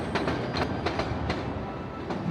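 A train rolling past on elevated tracks with rhythmic clickety-clack of wheels over rail joints, a continuous rumble with regular sharp clacks, fairly close.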